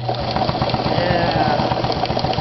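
Japanese-made Sewmor sewing machine running steadily at close range, a fast even mechanical chatter with a low motor hum underneath and no pauses.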